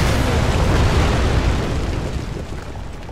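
A loud, close explosion in The Evil Within, a heavy broadband boom that rumbles and slowly fades.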